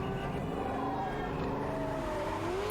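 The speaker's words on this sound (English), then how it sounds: "We're starting with a car chase." A car chase from the movie John Wick: Chapter 2, with engines roaring and revving loudly and steadily, a dense, continuous rush of motor noise throughout.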